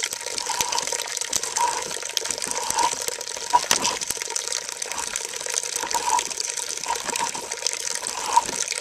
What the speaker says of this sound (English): the press really does a good job of getting that cider right out of the apple